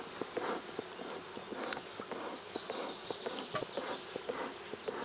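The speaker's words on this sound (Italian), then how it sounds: "Qui c'è più api, eh?" Many honey bees swarm around an opened hive during a honey harvest in Castagneto, making a dense, steady buzz close by, with scattered light clicks and knocks from handling the hive frames.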